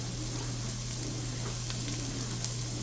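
Onion and pepper sweat in a pan with a little salt, giving a steady, close sizzling hiss with faint crackles and no talking.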